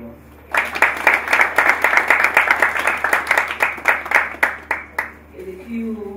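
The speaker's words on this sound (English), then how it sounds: "I think we should give NSE a round of applause." An audience at the NSE 2019 X-Kathon event breaks into a round of applause, steady dense clapping for several seconds that thins out and stops, followed by a brief voice.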